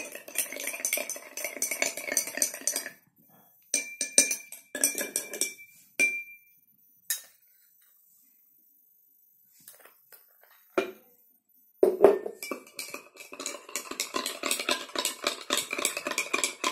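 A utensil stirs salt into water in a glass, giving rapid clinking and scraping taps against the glass in busy bursts, broken by a long quiet stretch before the stirring resumes.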